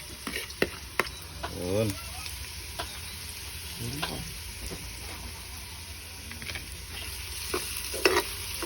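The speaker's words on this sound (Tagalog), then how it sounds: "So unahin muna natin itong luyang igisa para mabango." Ginger sautés in a pan for goat papaitan, with a quiet, steady sizzle under repeated close spoon scrapes and clinks, while a person speaks briefly midway.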